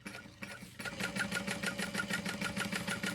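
Sewing machine stitching the seam of a large Valora handbag, a steady, rapid mechanical rhythm of repeated needle strokes running close and continuous after a brief quieter start.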